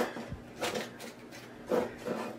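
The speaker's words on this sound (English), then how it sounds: "I'm just going to trim it nice and short and just fill a couple of extra spots." Shears trim a greenery stem for a small floral centerpiece, giving a few soft, brief rasping snips and rubbing sounds, close and quiet, with short pauses between them.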